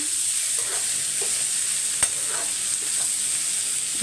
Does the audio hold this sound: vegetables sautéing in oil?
yes